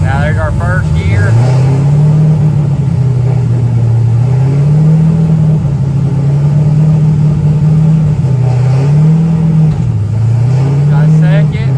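Car engine idling and rising and falling in repeated revs while a TH400 automatic transmission is held in first gear, a loud steady rumble with rhythmic swells, close by.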